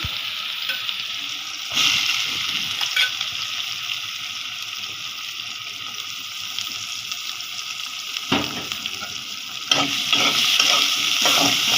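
Onions fry in a pan with a continuous sizzle, while a utensil scrapes and clatters against the pan in irregular bursts as they are stirred.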